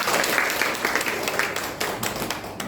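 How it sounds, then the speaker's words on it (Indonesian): An audience at the 20th Dies Natalis anniversary ceremony of STIKes Mitra Ria Husada in Jakarta applauds in a steady, dense wash of clapping that continues throughout. "Kita tepuk tangan."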